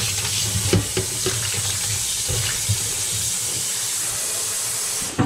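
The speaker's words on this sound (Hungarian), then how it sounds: "Ilyen átmossuk jól." Cauliflower florets are rinsed under a running kitchen tap, a steady hiss of water splashing into a sink with a few clunks of the pieces being handled, close and continuous.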